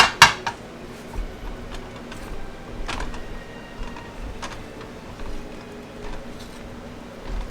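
A pan handled in a home kitchen: a sharp metallic clank at the start, then scattered lighter clinks and knocks of cookware over a quiet room hum.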